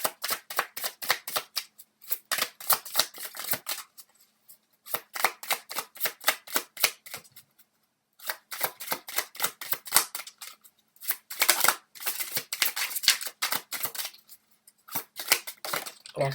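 Tarot cards being riffle-shuffled by hand, repeated quick bursts of crisp flapping clicks in several runs separated by short pauses, close and clear with no talk over them.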